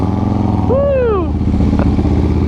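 A Harley 120R Twin Cam motorcycle engine revs in neutral on the street, a loud rising and falling roar over a steady rumbling idle, close by with no talk.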